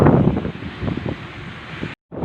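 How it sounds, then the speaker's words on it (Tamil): Strong wind on a night ride through Chennai buffets the microphone in loud, uneven low gusts that sound close and rough, with a brief dropout near the end. "ஆல்மோஸ்ட் அந்த காற்று நீங்கள் அந்த ஸ்பீக்கரில் கேட்கும்."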